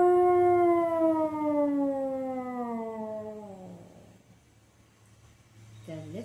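A voice imitates a dinosaur roar for a children's story about a big dinosaur, a long, loud, wavering howl that slides downward and fades over about four seconds, followed by a brief rising vocal sound.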